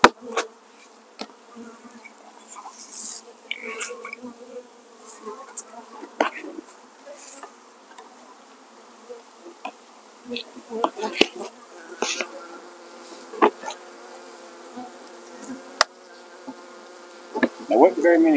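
Honeybees buzzing inside a nuc box after a swarm, a steady insect drone with sharper passing buzzes and occasional knocks of frames and box handling, fairly close, with no talk.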